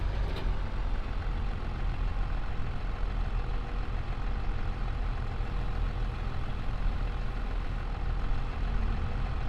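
Tractor engine running during snow clearing at a shop in a Montana roleplay game; a heavy, low engine drone idles steadily and loudly with no breaks and no talking.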